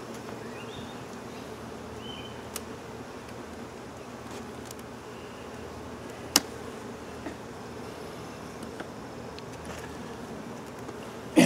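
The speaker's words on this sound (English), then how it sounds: "Alright, we got a lot of bees up here." Many bees buzzing around a beehive, a soft continuous hum with faint scattered ticks and clicks, fairly quiet and steady throughout, no talking.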